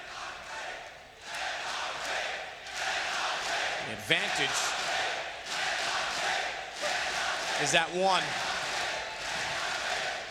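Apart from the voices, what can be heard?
crowd cheering at CS:GO esports match, IEM Sydney 2019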